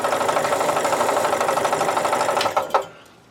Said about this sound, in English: I'm going to clean them up with the wire wheel here.